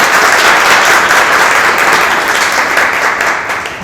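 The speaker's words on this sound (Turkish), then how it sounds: "özel bir alkış istiyorum" Loud, dense applause from a crowd fills the room, steady throughout and tapering slightly at the end.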